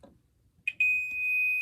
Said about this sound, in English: You can hear the beep, right? So that means there is a continuity.